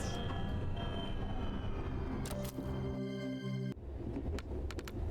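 A reactor train rumbles and rattles steadily through this stretch of the video game Tactical Breach Wizards, a dense rolling rail noise with a brief tonal hum in the middle and sharp clanks near the end.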